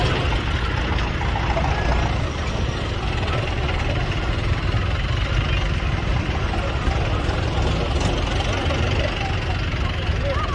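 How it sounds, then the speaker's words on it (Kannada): Tractor engines rumble steadily at a farmers' protest tractor rally, a dense low idling drone with crowd noise and voices mixed in throughout. "ಟ್ರ್ಯಾಕ್ಟರ್ ರ್ಯಾಲಿ ನಡೆಸಿದರು"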